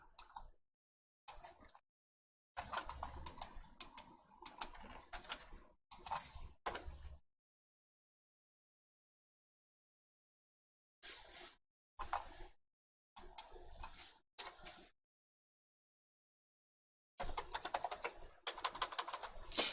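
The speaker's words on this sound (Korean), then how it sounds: "검색 상자에 픽사베이 적어주세요." Rapid key clatter on a computer keyboard as Pixabay is entered into a search box, coming in several close bursts of fast tapping separated by quiet pauses.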